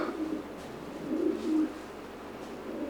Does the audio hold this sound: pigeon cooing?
yes